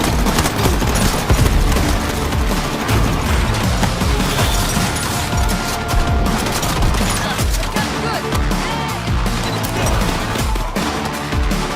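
Continuous heavy gunfire with crashes and bursts during a heist in the VR game Payday Aces High, loud and unbroken throughout, with a voice faintly present under the shooting.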